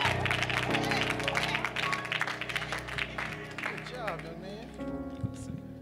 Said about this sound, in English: Go give God a hand clap of praise.